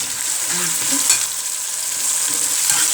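Alexandrian-style liver sizzles loudly in a hot pan, a bright steady hiss with soft scraping and clinking as it gets stirred and turned, no talking over it.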